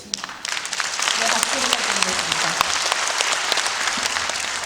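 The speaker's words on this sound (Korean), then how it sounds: "박수를 부탁드리겠습니다" An audience at a book launch for a former city mayor claps steadily, a dense wash of many hands starting abruptly and holding at a moderate, fairly close level for several seconds.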